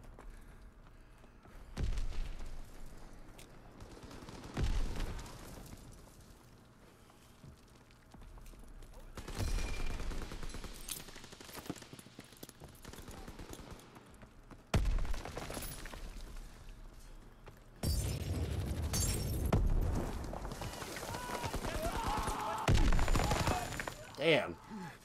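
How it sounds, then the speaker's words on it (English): Rapid gunfire in Call of Duty WW2 beta team deathmatch on the Ardennes Forest map: several loud, close bursts of automatic shots, separated by quieter gaps, with heavier sustained volleys toward the end. "why do I feel like they're fucking shooting so much fast?"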